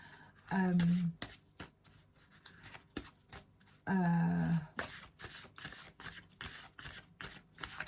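Tarot cards are shuffled by hand, a dry rapid riffling and sliding of stiff, non-glossy cards in steady short strokes, with two louder tonal bursts of a voice breaking in between.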